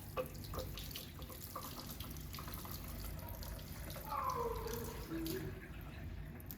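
Tap water runs steadily into a sink to rinse a Cavalier dog, a continuous close splashing hiss, with faint background talk.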